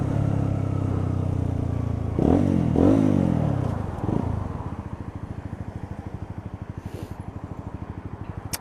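Motorbikes ride by outside, a loud rumbling pass with engine revving that swells, then settles into a steady, fast-pulsing idle putter nearby, with no talking.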